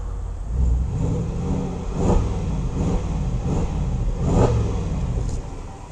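A Range Rover Sport SUV engine idles with a low rumble and is revved several times in short surges, heard close and fairly loud.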